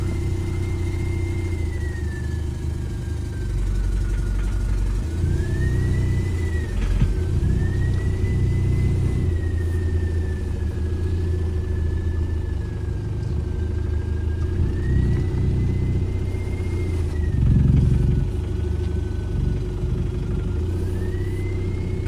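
A car with a swapped-in TDI diesel engine drives slowly, its engine rumbling steadily close by with light throttle blips, a whining tone rising and falling, and no talk.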